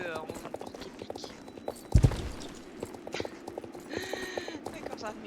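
Pony hooves clip-clopping on the ground in a video game, a steady walking rhythm of light knocks with a louder thump partway through, heard under someone talking in French.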